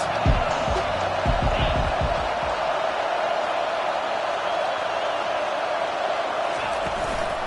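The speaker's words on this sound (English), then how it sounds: "Big third down as the crowd gets behind this defense." A football stadium crowd at Nebraska vs Michigan roars on a third down late in the fourth quarter, a loud, steady wall of cheering that fills the whole stretch with a few sharper bursts near the start.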